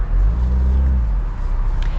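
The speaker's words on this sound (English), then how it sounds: "It's a really cool engine. It performs well. It sounds fantastic." A BMW Z4 convertible's B58 engine runs loud and close, a deep harmonic drone that shifts in pitch partway through before easing to a steadier hum.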